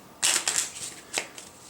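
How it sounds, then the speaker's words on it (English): Pandemic board game infection cards are shuffled by hand, a quick burst of riffling followed by a few lighter card taps, close and crisp with no talking. "We're going to just shuffle these infection cards that we have here"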